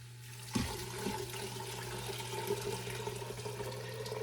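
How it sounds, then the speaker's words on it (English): Chicken broth pours steadily into a pot of pinto beans for a sausage and bean dish, a continuous close splashing, gurgling stream of liquid lasting throughout. "Now I'm going to add the chicken broth."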